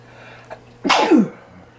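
A single sharp human sneeze bursts out close and loud after a small intake of breath, then fades quickly into a quiet room.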